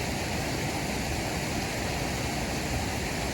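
A small waterfall, beside a spot where someone is fishing with bread bait, gives a steady, close, full rushing hiss of falling water that holds even throughout, with no voices.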